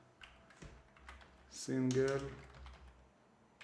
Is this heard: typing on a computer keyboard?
yes